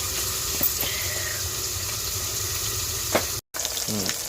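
Tengra fish frying in hot oil in a village kitchen, giving a steady loud sizzle that runs without pause, with a few faint clinks and a momentary cut near the end.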